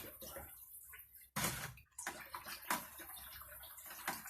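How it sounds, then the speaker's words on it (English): Water swishing and sloshing in a container as Kodak XTOL film developer powder is stirred in to dissolve, with small splashes and ticking knocks against the sides, fairly quiet and close. "Just give it a stir until it all completely dissolves"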